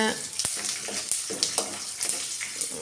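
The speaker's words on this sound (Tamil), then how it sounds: "அடுத்தது எள் போட்டாச்சு எல்லாம் சிம் பண்ணியே வதக்கிங்க" Urad dal and sesame seeds being sautéed over a low flame for a pirandai chutney, giving a soft, steady crackle with light stirring scrapes and a few sharp clinks of a utensil on the pan.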